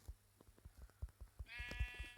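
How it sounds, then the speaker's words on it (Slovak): Sheep in Minecraft bleat in a short, clear call near the end, following a run of soft rhythmic thumps like footsteps, fairly quiet overall and with no talking. "Neutekaj, ovca!"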